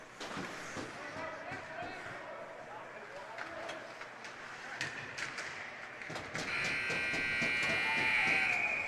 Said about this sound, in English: And there's your final buzzer.